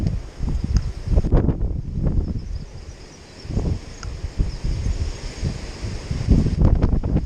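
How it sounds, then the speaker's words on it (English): Strong coastal wind buffets the microphone in heavy, uneven gusts, rumbling loudly and continuously with brief lulls across the whole stretch. "The wind is really starting to open up here a bit now"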